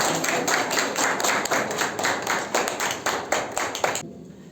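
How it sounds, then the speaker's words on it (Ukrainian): Children at a village exhibition of children's drawings applaud, a dense, steady patter of many small hands close by for about four seconds before stopping abruptly. "Діти, оплески цим самим наймененьким нашим."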